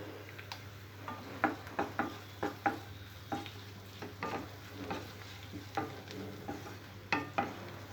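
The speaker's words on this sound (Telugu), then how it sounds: "ఉల్లిపాయ ముక్కలు కొద్దిగా ఫ్రై అయిన తర్వాత ఇందులో పసుపు వేసుకోవాలి" Onion pieces fry with turmeric in a pan for a boondi curry with green chilli: a steady low sizzle with regular clicking taps of a spoon stirring, close and moderately quiet.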